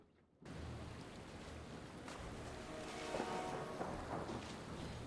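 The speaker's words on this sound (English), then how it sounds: "The storm rages and the seas are wild." A thunderstorm at sea: steady, heavy rain-like roar begins abruptly and swells slightly, with faint rumbles of thunder in the background.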